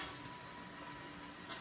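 A motorized LEGO Crocodile locomotive runs along its track, giving off a faint, steady electric whir and hiss with no voices.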